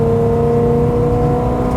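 A 1969 Pontiac GTO Judge accelerating hard from 70 mph, a loud sustained engine roar with steady whirring tones, heard close and continuous without talk.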